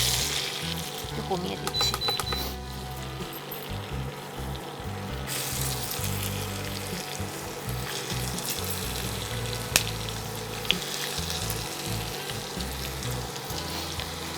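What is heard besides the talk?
chopped garlic sizzling as it fries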